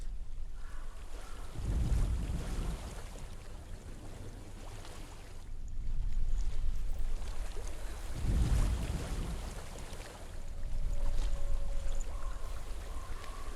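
Flowing water in the video game Hellblade: Senua's Sacrifice, a continuous rushing wash like a stream or river that swells and recedes in slow surges, with faint low rumbles and no talking.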